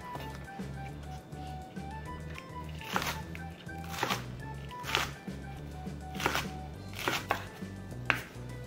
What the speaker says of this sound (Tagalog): And then our leeks, isa-slice natin siya na maliliit.